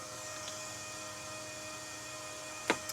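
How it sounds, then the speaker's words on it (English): The coolant pumps of an electric Dodge Charger, whose battery has failed, give off a low, steady hum that stays faint and even throughout, with a brief soft knock near the end. "That's the coolant pumps."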